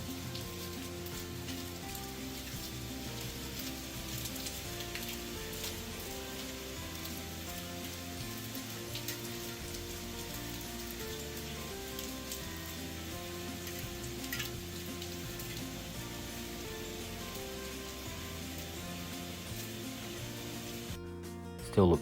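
Steady rain falls outside a hotel window at a Cancun Hilton resort during a hurricane, a continuous even hiss at constant level throughout with no talk.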